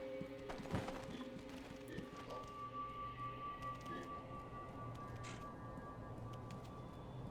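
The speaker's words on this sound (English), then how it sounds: "I hear footsteps. Little footfalls." Small, light footfalls in Sekiro: Shadows Die Twice patter softly and faintly beneath a steady, droning ambient hum.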